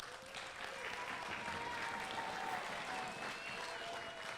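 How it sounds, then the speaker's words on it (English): Faint, distant applause at Bampton School's Riverside Hall for helpers, a soft continuous patter of clapping with a faint high tone running beneath it. "give them a round of applause as well for helping us out"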